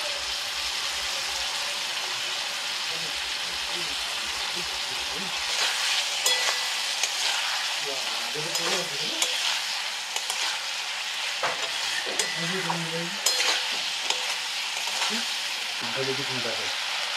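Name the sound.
frying small fish in spices in a pan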